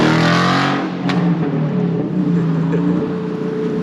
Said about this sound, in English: That Mustang Coyote motor sound good.